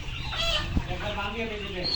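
A flock of layer hens on a farm in Kushtia keeps up a steady, overlapping clucking, fairly close and even in level, with one brief sharp knock partway through.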